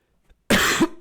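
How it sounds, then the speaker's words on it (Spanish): A sick man coughs: a faint throat sound, then a loud harsh cough burst lasting about half a second, followed by a short second cough, close to the mic. "disculpen la tos"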